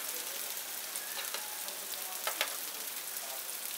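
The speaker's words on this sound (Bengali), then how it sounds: "এখন এই মশলাটাকে আমি 2 মিনিট মতো একটু ভালো করে কষিয়ে নিচ্ছি।" Spice paste of cumin, chili and turmeric powders with salt fries in a pan for egg malai curry, a steady close sizzle with a few faint stirring scrapes and no voices.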